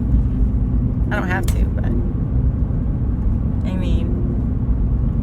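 Steady low rumble of a car cabin on the move, loud and constant throughout, with a person talking over it in brief stretches.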